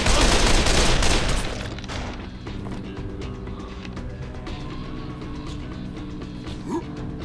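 Rapid burst of gunfire in the Dead Island video game, loud and dense at first, then fading into a lower, steady clatter of mechanisms and background noise, with a faint voice near the end.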